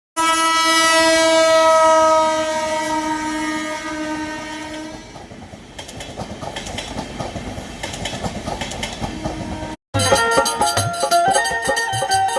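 A passenger train on the Prayagraj to Vijayawada route sounds a long, loud horn, then runs past with rhythmic clattering wheels and rattling cars after a brief cut.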